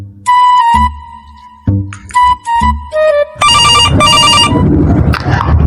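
A phone ringtone plays in a loud, repeating electronic melody in a Hindi domestic comedy scene, with short bursts separated by brief pauses before turning into a denser, continuous ring.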